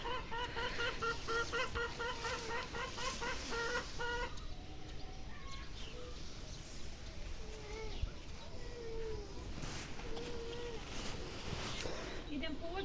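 Hens cluck and cackle repeatedly in the background, with a rooster-like call near the start, over steady outdoor noise and occasional voices.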